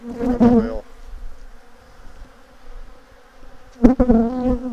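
Honey bees swarm around an open, defensive hive during a honey harvest, a dense steady buzz that holds throughout with closer, louder bursts as individual bees pass near, alone without talk.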